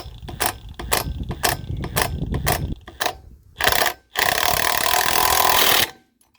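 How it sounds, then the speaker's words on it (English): Wrench work on a lug nut that strips on a rusted 1977 Pontiac Trans Am wheel: a run of sharp, close ratcheting clicks and metallic bursts, then a longer continuous grinding rasp before it stops. "Every time I do this, another lug strips."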